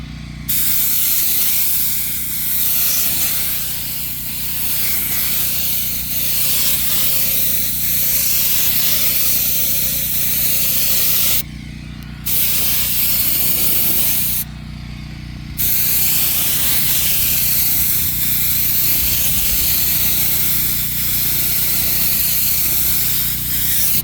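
Spray painting a Humvee H1 hood outdoors gives a loud, steady hiss of a spray gun, broken by two short pauses, with wind adding a rough rumble underneath.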